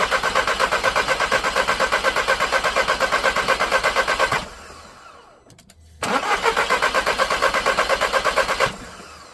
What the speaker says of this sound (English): let's turn it over again, see if that does it.